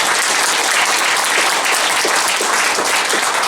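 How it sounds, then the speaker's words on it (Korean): An audience at a citizens' forum in Daegu on a new southern airport bursts into steady, dense applause, loud and continuous with no voices over it. "박수 칩시다."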